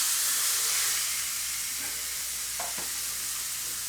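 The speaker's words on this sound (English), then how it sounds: "We'll get a little bit of oil in, and we're just going to sear the meat." Beef sears in oil in a hot, smoking pan, giving a steady bright sizzle and hiss throughout, with a few faint scrapes or stirring sounds near the end and no talking.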